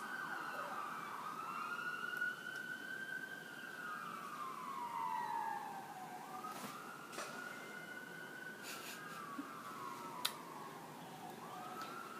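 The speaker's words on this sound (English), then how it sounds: "You hear those sirens?" A siren wails in long rising and falling sweeps, fairly distant, over steady road traffic noise; no voices.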